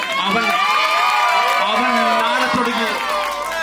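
Wedding guests at a hall cheering and whooping together in a loud, continuous crowd roar, with shouted voices prominent and only faint clapping underneath.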